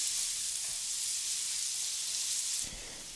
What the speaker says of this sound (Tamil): நல்லா செவந்து வர வரைக்கும் வதக்கி விட்ருங்க.